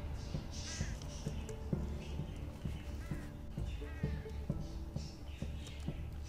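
Crows in the video game Unravel caw repeatedly in ragged, scattered bursts over a low rhythmic background thumping, and a faint voice appears briefly.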